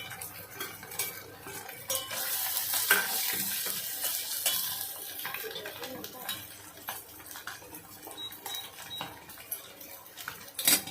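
Eggs frying with masala in a pan, with a soft steady sizzle under scraping and clinking of a metal utensil stirring against the pan, fairly close.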